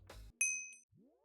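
A bright notification bell sound effect: one crisp metallic ding rings out and fades, framed by a short whoosh before it and a rising synthetic swoop after, with no talk.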